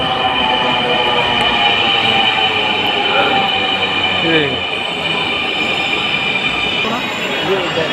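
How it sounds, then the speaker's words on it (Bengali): A second metro rail train rolls into the station on the opposite track, with loud rumbling and shifting wheel squeals that glide in pitch, steady and close throughout. "ওই যে আরেকটা এসে পড়েছে ভিউয়ার্স।"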